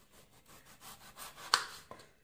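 A knife slicing peeled potatoes into medium fries on a board, quiet rubbing strokes with a sharper tap near the end, close and faint, no talking.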